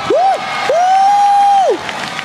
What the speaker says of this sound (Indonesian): Tepuk tangan untuk Abdur.